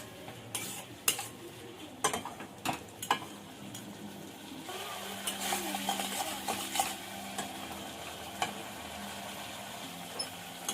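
Tomato paste sautéed and stirred in a pan, a soft continuous sizzle broken by sharp clinks and scrapes of a spoon against the metal, close and without talk.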